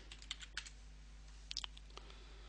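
Several quick keystrokes on a computer keyboard, soft and close, tapping out in short irregular bursts over a steady low electrical hum.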